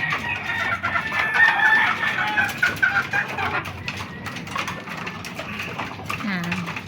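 White Kelso chickens clucking and calling at feeding time in a backyard breeding setup, busy overlapping clucks close by with a voice speaking underneath.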